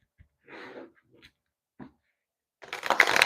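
A deck of tarot cards is shuffled, brief soft riffling bursts near the start, then a louder, longer crisp riffle close up at the end.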